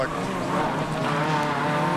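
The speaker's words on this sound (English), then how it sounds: "And you can hear all the pickup when he's off the dirtier line, all the pickup of the rubber going and hitting the inner guards." Hyundai Excel race car at a Townsville race, loose rubber pickup pattering against the inner wheel guards, heard as a steady gritty rattle over the constant loud engine and road drone, with a voice likely talking over it.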